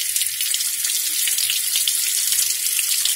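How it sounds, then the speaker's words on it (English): Cold tap water runs steadily over a thermostat held under the faucet, giving a loud, continuous hiss and splash close by with faint clinks underneath. "to make it close, I put cold water on"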